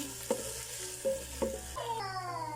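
Tuna and mushrooms sautéing in a lightly oiled pan for a white sauce pasta, with a few soft stirring scrapes over a low, steady sizzle, ending in a brighter, rising tone.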